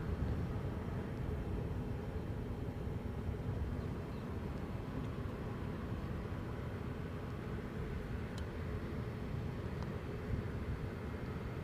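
A Delta airliner arriving from Boston lands at Edinburgh airport, a steady distant jet roar and broadband rumble held at an even, faint level throughout.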